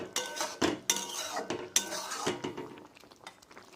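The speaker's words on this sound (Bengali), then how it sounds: "তেঁতুলগুলোকে একটু গালি গালি দিচ্ছি" A metal spoon scraping and knocking inside a cooking pot while tamarind is mashed for a sour tamarind, tomato, sweet potato and onion-stalk curry, with repeated clinks and scrapes in an uneven rhythm, close and fairly loud.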